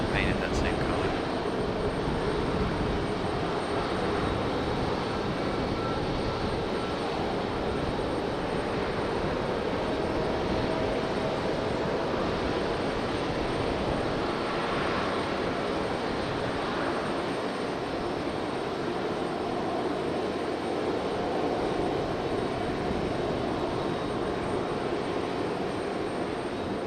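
An aircraft at Raleigh-Durham International Airport, a continuous broad engine roar held steady throughout, with tower radio talk underneath.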